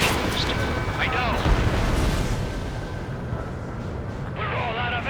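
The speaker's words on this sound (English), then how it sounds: "They already are firing on us." Rumbling gunfire and distant booms from an Ace Combat 7 aerial battle roll on steadily throughout, with radio voices of pilots talking over the constant din.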